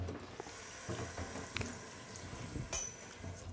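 Water runs or pours steadily for wetting a hand-knitted garment during finishing, a faint, continuous splashing wash with a few small clinks, heard alone at low level.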